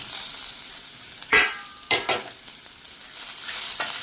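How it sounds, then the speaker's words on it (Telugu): Curry leaves and dried red chillies dropped into hot oil, giving a few sharp bursts of crackling sizzle over a steady background fry, with a light stir in between, close and fairly loud. "ఇప్పుడు మనం కరివేపాకు మరియు ఎండుమిర్చి వేసేద్దాము."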